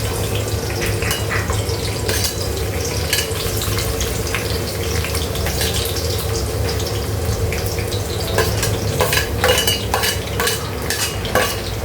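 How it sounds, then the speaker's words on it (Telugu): Onions frying in a pan with cardamom for a home-style chicken curry, a steady loud sizzle with stirring and scraping clinks throughout. "ఇంకా బాగా ఫ్రై గోల్డెన్ కలర్ వచ్చే వరకు ఇంకా ఆనియన్స్ని బాగా ఫ్రై చేసుకుందాం"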